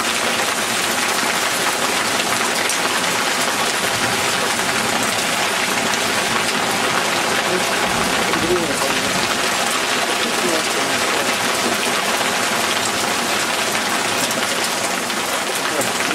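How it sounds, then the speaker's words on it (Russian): Heavy rain pours down during a thunderstorm with hail on an outing in the Urals, a loud, constant broadband roar of drops that stays dense throughout, with voices faintly beneath it. "Нас сейчас сметет эта гроза."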